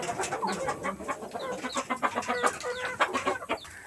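Chickens cluck busily inside a chicken house, a dense overlapping chatter of short clucks and squawks from several birds at close range.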